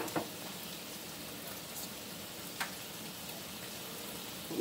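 Grease heating in a hot pan on a home stove, turned all the way up for kielbasa sausage, sizzles in a steady, faint crackling hiss with a few soft ticks and pops throughout.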